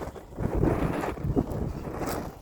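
Strong gusts of wind buffet the microphone, producing a continuous rough roar that swells and eases without pause.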